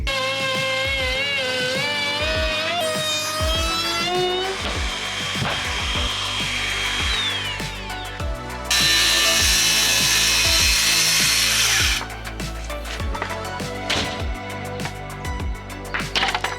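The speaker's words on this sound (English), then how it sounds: "use the router to get that nice clean line, and then for the front and back I'll just cut that with the skilly" Timber rafters for a small garden shed are cut with a router and a Skilsaw circular saw, loud whining motor tones rising and falling, with bursts of dense cutting noise, close up and continuous, no talk.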